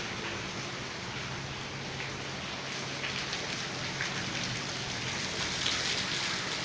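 Steady rain falls in Dipalpur, a soft continuous hiss of drops on surfaces with no voices, even and unbroken throughout.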